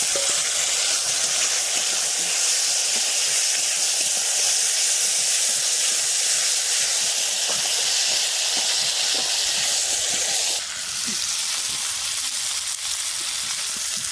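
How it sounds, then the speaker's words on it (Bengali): Potatoes and tomatoes fry with a loud, steady sizzle and hiss that runs without a break, close to the microphone. "আলু আর টমেটো একটু ভাজা করে নিই, হালকা করে ভাজা করে।"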